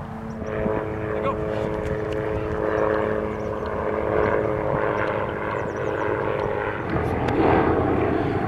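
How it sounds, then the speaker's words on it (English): Helicopter flying overhead above an outdoor football practice field, a steady loud rotor and engine drone throughout, with someone speaking at times beneath it. "if the darn helicopter wasn't flying up there"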